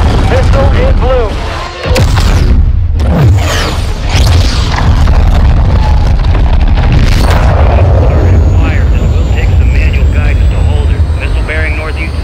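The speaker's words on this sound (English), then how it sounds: "Stand by for launch." A missile launch in the Modern Warfare 2 video game campaign, a loud roaring boom and rushing jet-like thrust that sustains close and heavy, with radio voices talking over it.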